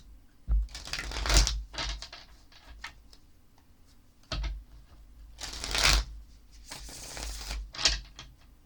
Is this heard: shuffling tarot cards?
yes